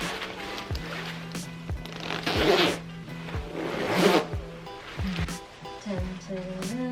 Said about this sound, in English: Zips very easily.